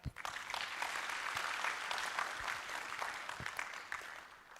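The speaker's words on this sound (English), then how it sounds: "I think he deserves a better clap." An audience applauds at a university student placement stakeholders forum, opening with a few sharp claps before building into a dense, steady round of clapping that tapers slightly toward the end, with some louder individual claps close by.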